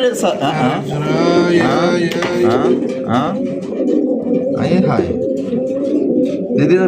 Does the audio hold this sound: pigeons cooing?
yes